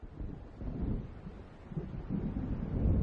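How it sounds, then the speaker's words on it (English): Low rolling thunder of an approaching storm in Alan Wake rumbles faintly and far off, swelling and fading in dull waves with a windy undertone. "It seems there's a storm coming."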